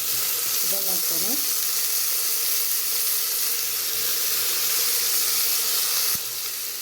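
Ginger and garlic frying in a pan give a steady, close sizzle that runs unbroken for several seconds, with a brief clink of a utensil near the start and no talking.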